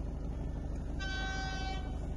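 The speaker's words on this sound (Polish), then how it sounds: "Pociąg jedzie, rogatki stoją," A train rolls through a railway level crossing on the Legnica–Rzeszotary line, where the barriers are faulty and stay raised. A steady low rumble runs throughout, and a brief horn toot sounds in the middle, with no voices.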